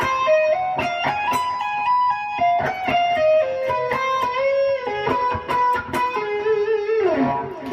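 Electric guitar played without a whammy bar, working slowly through the final part of a piece: a steady run of distorted, sustained notes and quick tapped phrases, ending in a descending slide, loud and close with no talk.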